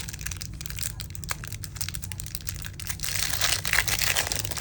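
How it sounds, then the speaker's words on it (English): Plastic packaging around sea turtle resin earring molds crinkles and crunches steadily as it is opened, close and continuous for several seconds with no talk. "sorry for the crinkling"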